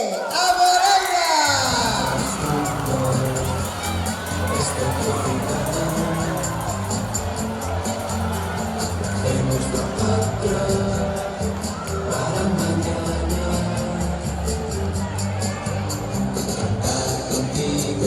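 A crowd at a school Entroido carnival awards ceremony at IES Sánchez Cantón bursts into loud sustained applause and cheering with shouts, a dense roar filling the hall from start to finish.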